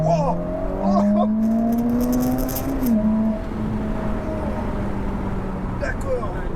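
Ferrari sports car, a 500,000-euro model, accelerating hard on an open road, its engine note climbing steadily in pitch and then shifting before droning on at a high, loud pitch, heard from inside the car.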